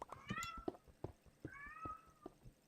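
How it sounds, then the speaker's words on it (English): A pet cat meows in a run of melodic, rising-and-falling calls, two long drawn-out meows with shorter chirps between them, close and fairly quiet with no talk over it. "No, my cat is singing the song of her people."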